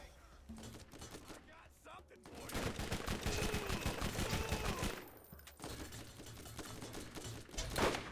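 Sniper rifle gunfire in Borderlands mixed with a dense, continuous rattle of rapid shots and impacts, loud and close, with a brief lull near the middle before the firing resumes.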